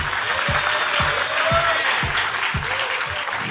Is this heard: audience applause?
yes